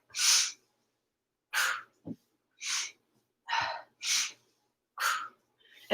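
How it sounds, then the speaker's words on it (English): Heavy exertion breathing during crunch exercises: sharp breathy exhales and gasps come in bursts about every second, close and loud, separated by silence. "you'll probably hear me breathing"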